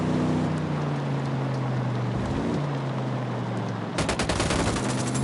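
Gunfire in the Ghost Recon Wildlands video game: a steady roar of game ambience gives way to a fast burst of rapid, dense automatic shots near the end, with no talking.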